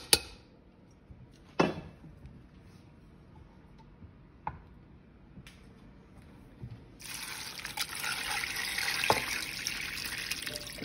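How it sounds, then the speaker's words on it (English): Water poured into a pot of beans at home, a few small clinks and taps first, then a steady splashing pour taking over for the last few seconds. "Start putting your water in."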